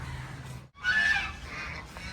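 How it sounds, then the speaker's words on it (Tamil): Ducks give loud honking calls near a swimming pool on a holiday trip, coming in a burst after a brief gap, with background noise around them and no speech. "ஜெஷிதா, என்ன வாத்து பார்த்துட்டியா இல்லையா?"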